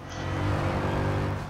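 Alfa Romeo engine in the racing game Forza Horizon 4, a brief steady droning hum that swells slightly and holds, loud and close with no talk.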